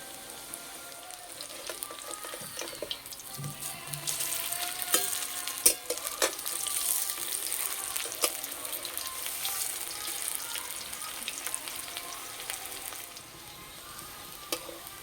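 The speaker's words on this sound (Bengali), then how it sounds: "ভাজার সময় জোরে জাল দেব না, আস্তে আস্তে জাল দেবো আর ভেজে নেব।" Semolina onion fritters fry gently in oil over low heat, producing a continuous bright crackling sizzle with occasional clicks of utensils and a faint voice underneath.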